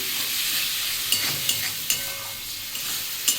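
Chicken curry masala being stir-fried in a pan, a continuous sizzle broken by several sharp spatula scrapes and stirring knocks, close and alone.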